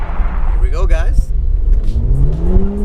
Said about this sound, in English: nice spirited 1 to 2 shift, 2 to 3, 3 to 4, and then all the way to 6, and it all is buttery smooth now